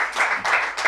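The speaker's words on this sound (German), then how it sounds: "Applaus, Applaus, Applaus." Audience applause in a German live event venue, a dense wash of clapping in three swelling bursts, loud and close with no talk over it.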